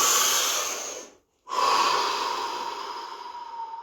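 Slow, deep breaths during a stillness practice: a long, airy exhale close to the mic, a brief silent pause, then a second drawn-out breath that fades gradually.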